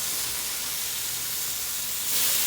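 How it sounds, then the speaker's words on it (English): Steady, loud hiss and crackle of steak searing in a hot iron skillet, continuous broadband sizzle that swells slightly near the end. "Ooh, listen to that sizzle."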